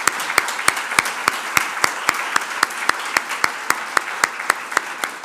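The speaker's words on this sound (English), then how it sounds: "So let's just clap again." Loud, regular clapping at an annual general meeting award presentation, a steady rhythmic beat of sharp claps at roughly three per second over a faint crowd background, sounding like a few close hands leading the room.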